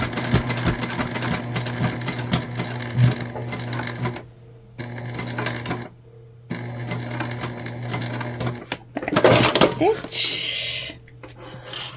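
A sewing machine stitches a seam through foam from a dollar-store dish drying mat, giving close rapid needle clatter in bursts with brief pauses between runs, and a voice speaks briefly near the end.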